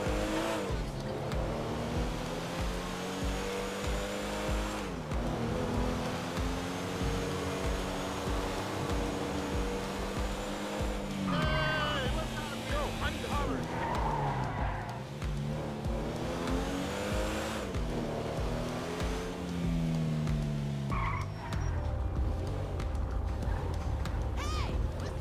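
Motorcycle riding in the video game GTA V, an engine droning and rising and falling in pitch with gear changes throughout, with occasional tire squeals and other traffic sounds.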